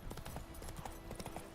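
Hooves of Roach, Geralt's horse in The Witcher 3, clip-clop in a steady quick rhythm, close and moderately loud, with a continuous background hum beneath.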